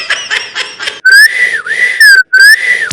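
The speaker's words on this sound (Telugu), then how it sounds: "మీరు వెనక్కేసారు విజిల్" Whistling on a Telugu television game show, a loud melodic whistle with sliding pitch sounding in phrases after a short burst of laughter-like sounds, close and clear.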